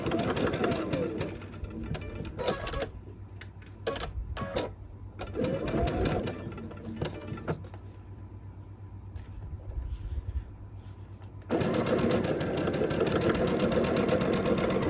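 A sewing machine runs in steady buzzing bursts while stitching quilt pieces, stopping and restarting a few times with quieter handling sounds in the gaps before a final long run at close range.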